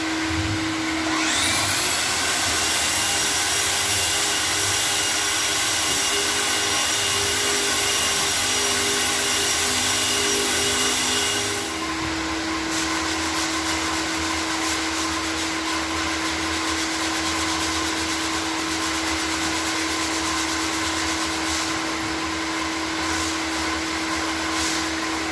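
A floor sanding machine grinds across an old, 100-year-old top-nailed wood floor at 120 grit, a loud continuous whining roar that shifts to a lower, rougher drone partway through and keeps running without pause.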